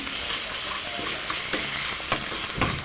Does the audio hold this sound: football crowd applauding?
no